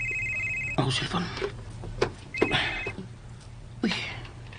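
A cellphone rings in short bursts of electronic tone, one burst at the start and another midway, while people talk and move about nearby.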